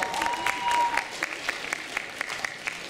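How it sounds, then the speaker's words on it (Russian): Scattered clapping from an audience at a KVN comedy team competition in Barnaul, with sharp separate claps over a steady background murmur and a faint sustained tone near the start. "Аплодисменты!"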